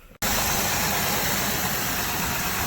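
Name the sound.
car engine idling after throttle cable adjustment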